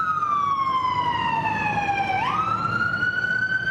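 Ambulance siren at a multiple-vehicle crash site in southern Quito, a loud, close wailing tone that sweeps slowly down, then jumps back up and holds, over steady road noise.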